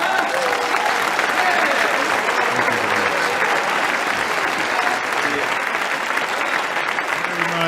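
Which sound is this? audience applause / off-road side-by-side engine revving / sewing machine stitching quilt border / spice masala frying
audience applause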